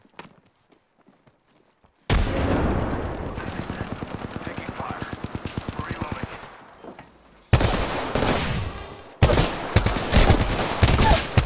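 Rapid automatic gunfire rattles in a steady stream during an Apex Legends match, then sharper bursts and single cracks follow after a quiet opening, loud and close, with brief in-game voice callouts.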